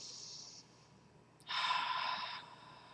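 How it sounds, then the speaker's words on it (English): One deep, close inhalation drawn in through the nose for about a second, following a fainter breath at the start and then quiet stillness. "So breathe in."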